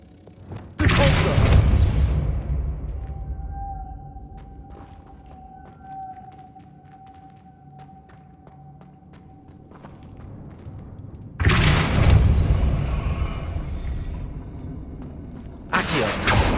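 A Depulso spell cast in Hogwarts Legacy, with heavy booming thuds that start suddenly and ring out, then a quieter mechanical hum with a thin tone, before more loud blasts return.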